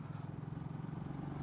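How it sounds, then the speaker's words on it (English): A BSA Goldstar motorcycle engine hums steadily while riding, a continuous low, even drone with a gentle pulsing rhythm, close and constant throughout. "engine is so full of torque at just about anywhere in the rev range, and it just hums along"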